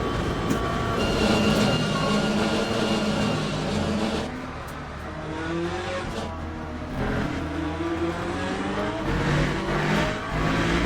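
Corvette Z06 LMGT3.R race car in the sim racing game Le Mans Ultimate at Spa, a loud continuous engine drone with rising and falling pitch as it accelerates and shifts, no voices.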